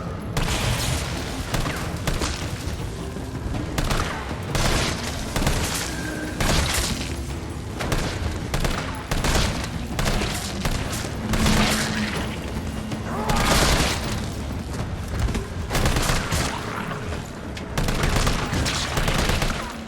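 Gunfire in the Resident Evil 3 Remake video game: dense, continuous bursts of shots and booms fill the stretch, rapid machine-gun fire mixed with heavier blasts, loud throughout with no pauses.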